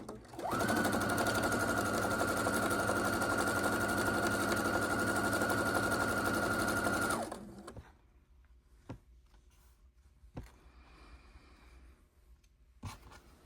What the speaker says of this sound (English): we're just going to start sewing all of our rows starting at the end first